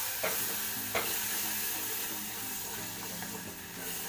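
Shallots, chili, ginger-garlic paste, curry leaves and ground tomato sautéing in a pan for a Kerala sardine dish, a continuous close hissing sizzle with a few spoon taps and scrapes, no talking.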